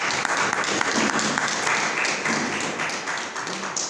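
A church congregation applauds loudly and continuously, a thick wash of many hands clapping at once with faint voices buried in the noise.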